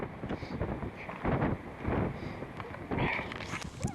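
Strong, cold wind gusts across the summit of Slieve Donard, buffeting the microphone in loud rushing bursts that rise and fall every second or so.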